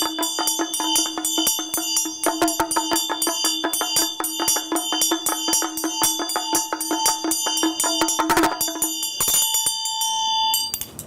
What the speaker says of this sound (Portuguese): normalmente toca-se junto o dorje, ou seja, o sino com o damaro